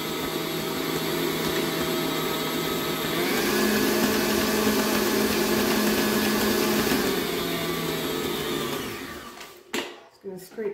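Electric mixer creaming butter and sugar for sugar cookie bars, a steady loud whirring drone that shifts pitch when the speed changes, then winds down and stops, followed by scraping clatter.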